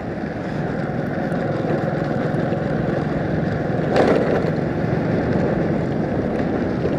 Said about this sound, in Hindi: पूरा कच्चा रास्ते में चला रहा हूँ बाइक।